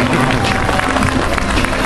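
A children's audience claps for a clown at a kids' magic and clown show, a short burst of dense, loud applause with crowd noise.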